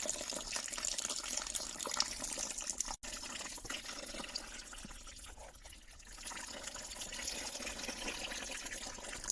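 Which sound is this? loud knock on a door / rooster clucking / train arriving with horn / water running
water running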